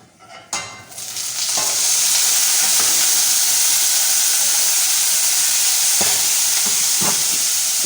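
Chickpeas dropped into a pan of browned onions, a sharp splash giving way to a loud, continuous sizzle with occasional stirring knocks.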